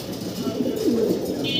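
Black Mundian pigeons give a brief, soft, throaty coo nearby, one short low phrase before it cuts off.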